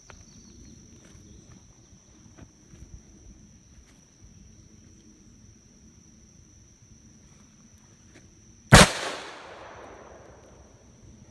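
One sharp, loud shot from a Smith & Wesson 586 .357 Magnum revolver firing 158-grain rounds cracks near the end, its echo tailing off briefly after several seconds of quiet room noise.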